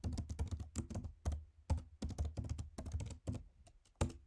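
Rapid keystrokes on a computer keyboard as commands are typed into a terminal, arriving in quick bursts with short pauses between them, close and clear with no talking.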